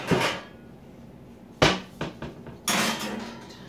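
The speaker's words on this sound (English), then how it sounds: "I'm going to put it on a pan because I forgot to do that." A casserole dish of chicken is set down onto a metal pan, producing several sharp clanks and knocks spaced across a few seconds, close and distinct against a quiet room.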